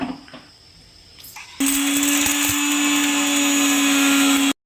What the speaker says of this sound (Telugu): పుదీనా అండ్ కొత్తిమీర ఇవన్నీ వేసుకొని మనం మిక్సీకి పెట్టుకోవాలి